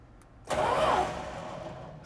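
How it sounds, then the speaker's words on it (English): A 1970 Dodge Challenger motor cranks over once when powered by a Power Probe tool, a loud burst of turning-over sound that settles into a steady mechanical hum. "see if we can hear this motor turn over"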